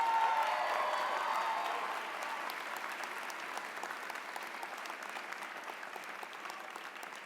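Sustained applause from a large university commencement audience, dense steady clapping that eases slightly in level but continues throughout.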